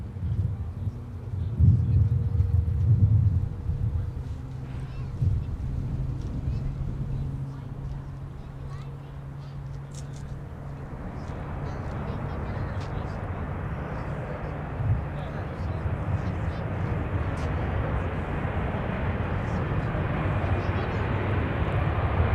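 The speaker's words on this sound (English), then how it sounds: "Here's Delta 1878 coming in from Cancun." A Delta airliner arriving from Cancun roars in to land at Minneapolis–Saint Paul airport. A heavy low rumble is strongest early on, then fades into a broad, steady jet wash, with voices talking over it throughout.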